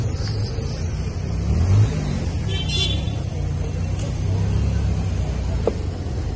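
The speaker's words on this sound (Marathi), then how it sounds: "आलेली आहे आपली कार." A car engine hums and rumbles nearby, swelling briefly as it revs, with faint high squeaks over the steady low drone.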